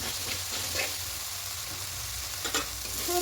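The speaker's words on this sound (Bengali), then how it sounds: "খুব ভালো করে কষিয়ে নেব।" Chicken with chilli powder and spices stir-fried in a pan, a steady close sizzle with scraping stir strokes throughout, no talk.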